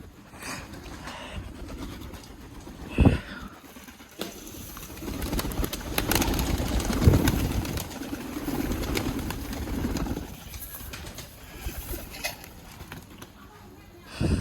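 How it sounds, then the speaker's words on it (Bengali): Pigeons being fed grain at a rural home coo and flutter close by, their soft calls mixed with shuffling and a person talking over them. "যে কবুতরগুলো আছে সেইগুলোর জন্য খাবার দিচ্ছি নিচে"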